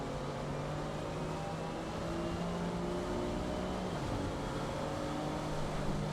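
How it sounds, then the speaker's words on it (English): Racing cars lapping the Brands Hatch circuit in a racing video game, a steady engine drone with shifting pitch as the cars run down the straight toward a corner, continuous and without speech. "Lloyd gets the better run out of Sterling's and is looking to overtake Rosendahl down clearways."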